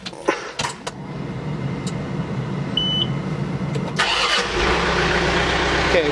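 A John Deere 4066R compact tractor engine cranks and catches after a few seconds of clicks and small knocks, then settles into a steady close idle.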